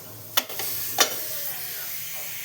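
Hot oil heating in a kadai gives a soft, steady hiss close by, broken by two sharp spattering bursts early on, then a quieter sizzle that settles to a continuous whisper.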